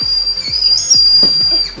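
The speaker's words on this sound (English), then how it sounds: "They're like little whistles." A Japanese candy whistle gives a shrill, steady high-pitched tone blown in short breaths, close and fairly loud, with faint breathy puffs between.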